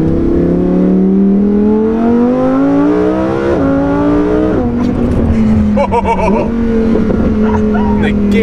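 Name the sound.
Lamborghini engine revving and downshifting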